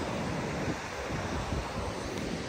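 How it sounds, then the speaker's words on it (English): Surf breaks on a Western Australian beach in a steady, roaring wash of waves, close and loud, mixed with wind buffeting the microphone and no talking. "Well, they still are kind of pumping."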